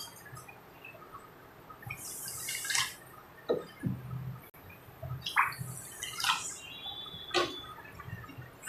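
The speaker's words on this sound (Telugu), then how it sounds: "ఈ షుగర్లోకి 2 కప్పుల వాటర్ పోయాలి" Water is poured from a cup into a bowl of sugar for homemade wheat flour halwa, giving a few short splashing pours and drips with quiet pauses between them and no voices.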